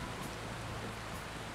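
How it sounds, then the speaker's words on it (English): Heavy pouring rain in a Viking-era strategy game thunderstorm, a dense, steady broadband hiss with no breaks or distinct drops, loud and continuous. "Pouring rain."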